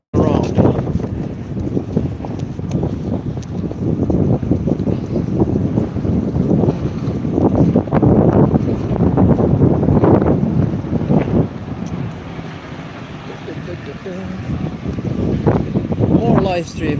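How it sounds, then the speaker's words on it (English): Strong outdoor wind in Turku buffets a OnePlus 13 phone microphone on a busy street, producing loud irregular rumbling gusts throughout, with someone speaking under and between the blasts. "Sorry for the wind, because it's super windy here in Turku today."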